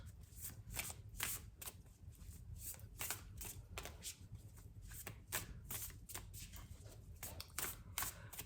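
Deck of cards being shuffled by hand, close and fairly quiet, a run of rapid riffling bursts repeating in an irregular rhythm with brief pauses between them, no voices.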